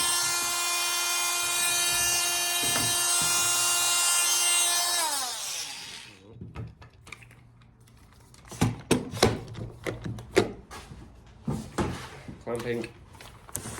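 Wood is rough cut by hand with a saw: after a sustained steady tone at the start, irregular rasping strokes follow, close and moderately loud, with clattering knocks between them.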